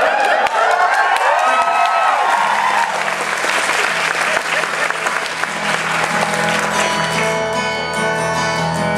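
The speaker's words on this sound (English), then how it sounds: "I'm getting applause." Applause from a live concert audience in Manchester swells into loud, dense clapping with scattered cheers and whoops, carrying on steadily before thinning slightly toward the end.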